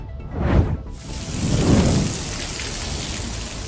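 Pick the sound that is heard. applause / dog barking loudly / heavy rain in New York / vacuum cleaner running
heavy rain in New York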